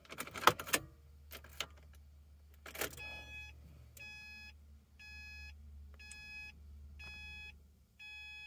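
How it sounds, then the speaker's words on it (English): In a Subaru Impreza a key is inserted with a few metallic clicks and jingles, then the ignition comes on and a steady series of electronic beeps repeats about once per second under a low hum. "Insert the key to be learned and turn on the ignition."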